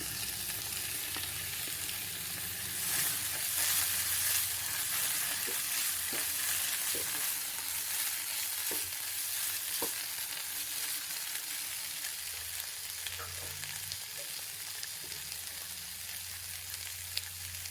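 Cubed paneer, about 100 grams, frying in a well-cooked masala for egg paneer roast, giving a steady close sizzle with scattered spoon scrapes and stirring clicks throughout, no voices.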